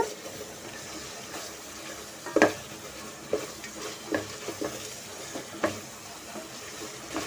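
Masala spices frying in oil in a pot for mushroom biryani, a steady close sizzle broken by several sharp scrapes and clinks of stirring, without talk.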